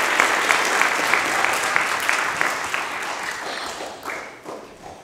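An audience at an elementary school musical gives a round of applause, dense clapping that holds steady, then thins and fades toward the end with a few scattered claps.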